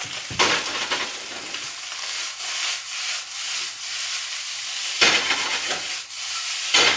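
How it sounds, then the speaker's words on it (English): Loud, continuous sizzling of oil in a frying pan with leftover rice, sausage and egg, close up, with periodic bursts of stirring and scraping. "Put a little bit more oil. I want to hear a bit more sizzle,"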